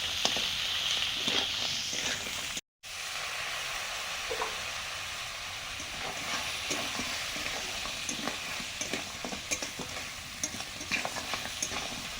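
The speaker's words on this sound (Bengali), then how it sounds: "এবারে ভেজে রাখা কাঁকড়া আর আলুটা দিয়ে দেবো।" Fried crab and potato are tossed into a spice masala in a hot pan, giving a loud, continuous close sizzle with scraping stirring strokes throughout. A momentary cut breaks the sound, and no one speaks.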